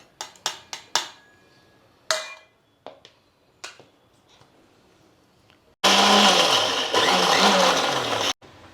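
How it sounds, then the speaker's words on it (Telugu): A kitchen mixer grinder whirs loudly for about two and a half seconds, grinding masala paste with garam masala, after a series of sharp knocks and clinks of the jar and lid being handled. "ఆరినాక మిక్సీ వేస్తా మిక్సీలో వేసి పేస్ట్ చేసుకుందాం"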